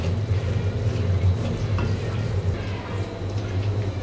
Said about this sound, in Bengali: প্রথমে মশলা কষিয়ে নিলাম